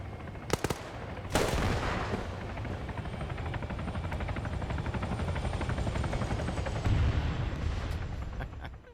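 Helicopter in a military shooter game churning steadily at close range for most of the stretch, its rotor drone loud and continuous, with a couple of sharp gunshot cracks near the start and a faint rhythmic beat running underneath.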